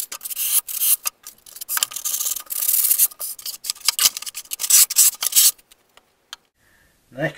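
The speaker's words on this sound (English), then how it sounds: "I just scuff the grooves a little bit with sandpaper" Sandpaper scuffing the grooves of a foam Ritewing Z3 wing: close, dry rubbing strokes in irregular bursts with short pauses, ending with a brief separate scrape.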